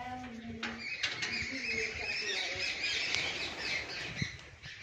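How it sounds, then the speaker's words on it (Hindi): Birds squawk and chirp around a village temple in a quiet green setting, several calls overlapping at moderate distance while people talk faintly in the background. "बिल्कुल शांति, सिर्फ पक्षियों की आवाज"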